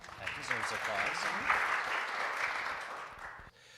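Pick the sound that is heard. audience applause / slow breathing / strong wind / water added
audience applause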